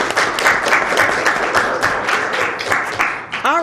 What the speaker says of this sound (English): So we can have a round of applause for the authors.